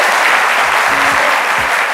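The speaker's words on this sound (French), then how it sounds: "Merci d'applaudir très fort." Loud, dense applause from a TV talk show studio audience welcoming a guest, continuous clapping throughout.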